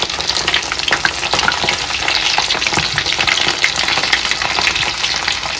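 Chicken nuggets deep-frying in hot oil give a loud, dense, continuous crackle and sizzle with steady bubbling throughout, no voices heard.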